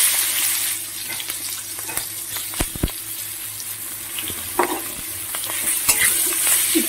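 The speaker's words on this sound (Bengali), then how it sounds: "একটু ভাজা ভাজা করে নেবো পেঁয়াজগুলো" Chopped onions added to hot oil with black cumin, giving a soft sizzle under scattered clinks and scrapes of stirring in the pan, with no voices.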